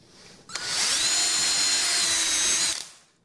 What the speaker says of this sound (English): Grab your screw gun.